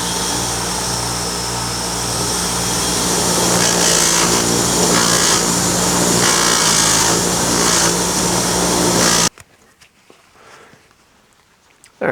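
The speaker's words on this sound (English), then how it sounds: "just after a few minutes on the grinder there" A power grinder whines steadily and loudly as it strips membrane from a roadkill fur pelt during hide tanning, running continuously for about nine seconds and then cutting off abruptly, leaving a faint quiet background.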